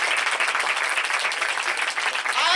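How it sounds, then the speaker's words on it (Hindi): A church congregation claps together during a worship service, producing a steady, dense wash of applause that runs throughout without a break. "कितने लोग विश्वास करते हैं, ताली बजा दे।"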